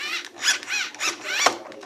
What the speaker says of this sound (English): You can hear the motor.